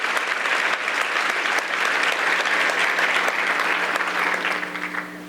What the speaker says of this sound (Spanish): dale un aplauso a Dios grande con tu corazón